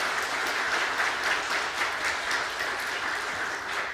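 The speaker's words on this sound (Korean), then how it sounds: "박수 한번" A church congregation at a Sunday worship service claps in steady, dense applause that fills the room evenly for several seconds, with no talk over it.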